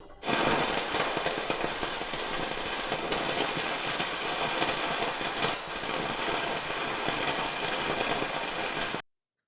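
A stick electrode arc-welding a bead, angled forward, after the slag was chipped off and the surface cleaned, makes a loud, steady crackling buzz for about nine seconds before cutting off abruptly.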